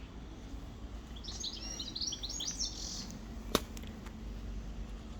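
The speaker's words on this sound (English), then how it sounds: "You can hear the robin and the goldfinches and the blackbird." A robin, goldfinches and a blackbird sing in a communal garden, bright twittering phrases rising over a soft outdoor hum, with one sharp nearby chirp standing out.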